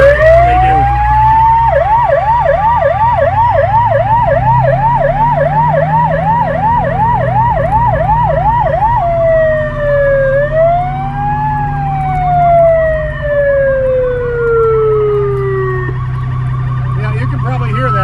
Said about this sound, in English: When you get a convoy this large of emergency vehicles, police, fire trucks,